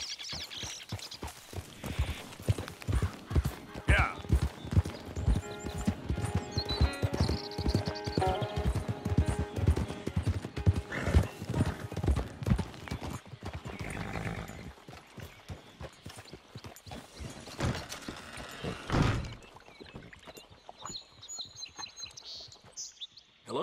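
A horse in Red Dead Redemption 2 walks at Strawberry, hooves clip-clopping in a steady close rhythm with a brief whinny and snorts, birds chirping faintly around it, before the steps thin out near the end.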